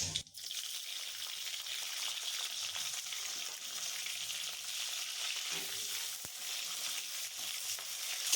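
Whole spices with bay leaf, cumin, dried chilli and chopped onion hitting hot oil for a goat tripe and bottle gourd curry, giving a steady close crackling sizzle that flares at the start and holds on without talk.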